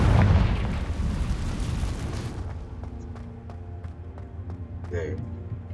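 A Confringo fire spell in Hogwarts Legacy bursts with a loud, dense explosive blast that decays into scattered crackling and debris over a low rumble, while a voice talks faintly underneath.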